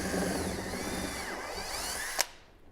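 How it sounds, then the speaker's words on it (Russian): A power drill with a 9 mm bit widens a pilot hole while a splitter is being fitted, a steady close whine that ends in a sharp click as the motor stops. "мы рассверливаем его, соответственно, сняв сплиттер, сверлом 9 мм"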